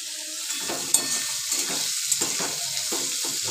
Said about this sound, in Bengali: এই সবজিগুলো আমি দিয়ে দিচ্ছি, ভেজে নিচ্ছি সবজিগুলো